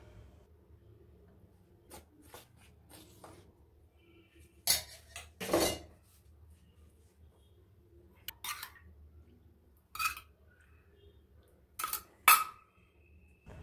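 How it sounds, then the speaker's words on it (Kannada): A utensil scrapes and knocks against a mixing bowl as mango cake batter is gently cut and folded, giving sparse, quiet scrapes and clinks separated by pauses, with no talk. "ಸ್ವಲ್ಪನೇ ಹಾಕ್ಕೊಂಡು ಕಟ್ ಆ್ಯಂಡ್ ಫೋಲ್ಡ್ ಮೆಥಡಲ್ಲಿ ನೀವು ಇದನ್ನ ಕಲಿಸ್ತಾ ಬರಬೇಕು"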